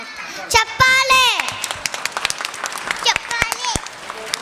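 Audience applause at a school annual day, scattered sharp claps mixed with children's voices and chatter, moderately loud and close, with a few louder bursts early on.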